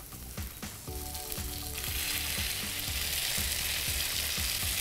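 Spiced potato sauce sizzles steadily in a hot pan over high heat, a bright continuous fry hiss building after a few opening scrapes, with regular rhythmic stirring strokes of a wooden cooking paddle running throughout.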